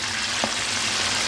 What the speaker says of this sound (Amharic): ይሄ በደንብ ቃል እስከሚልልን ድረስ መጠበስ አለበት